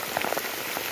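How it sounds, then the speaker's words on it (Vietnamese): Heavy rain pours down in a forest, a dense hiss with scattered close drops pattering on surfaces, loud and constant. "Mưa xuống rất to."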